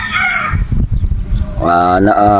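Regular gray gamefowl rooster at a game farm in Batangas crows in a loud, harmonic call near the microphone after a stretch of talk, with a voice speaking beforehand.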